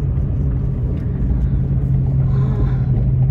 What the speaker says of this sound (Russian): у меня что-то гудит, как реактивный самолет.